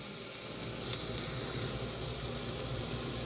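Shrimp scampi sizzles steadily in a pan over medium heat while being stirred, a constant close, bright frying hiss with small crackles throughout.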